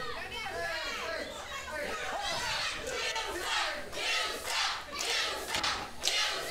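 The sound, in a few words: wrestling crowd chanting that they suck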